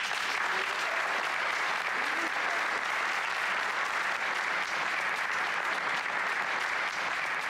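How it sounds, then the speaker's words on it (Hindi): Sustained audience applause for a school principal fills the room evenly for several seconds, a dense steady clatter of many hands without a break. "तो सबसे पहले प्रिंसिपल सर के लिए तालियां।"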